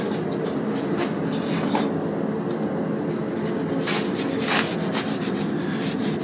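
Brake parts from a 2WD Dodge Ram being cleaned of brake dust and light surface rust, a steady scratchy rubbing and brushing that runs without pause at close range, with no talk.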